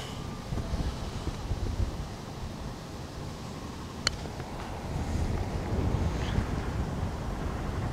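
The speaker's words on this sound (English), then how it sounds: "Wind's off my left." Wind blows across an open golf course, a low, steady rumble of gusts buffeting the microphone, swelling slightly toward the end, with a brief faint click partway through.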